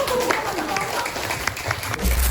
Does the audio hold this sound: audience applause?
yes